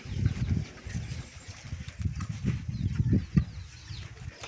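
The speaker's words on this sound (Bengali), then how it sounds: "এই যে মুরগি" Chickens on a rural home property clucking in close, low, uneven bursts that rise and fall for several seconds, with a few sharper calls near the end.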